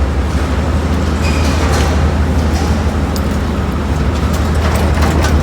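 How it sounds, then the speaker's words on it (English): Amtrak's Cardinal passenger train idles at a station platform, a steady low rumble of engine and ventilation that fills the scene without pause, with faint hiss and clatter above it. "Alright, here's our train."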